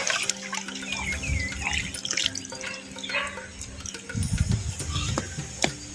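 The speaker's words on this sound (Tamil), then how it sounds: "1/4 லிட்டர் தண்ணியில் நெல்லிக்காய் சைஸ் புளியம்பழத்தை கரைச்சி இப்போ சேர்த்துக்கிறேன்" Tamarind dissolved in rice-washing water is poured into a clay pot while cooking Chettinadu okra mandi, giving a steady splashing trickle with drips, fairly close and without talk.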